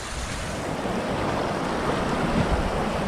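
Steady rushing water noise with a broad, continuous roar, fairly loud and unbroken throughout, like a swollen river flowing close by.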